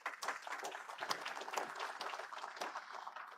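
Applause at a First Nations carbon summit greeting Chief Heidi Cook: a steady, fairly faint patter of many hands clapping at once, continuing evenly for a few seconds with no one speaking.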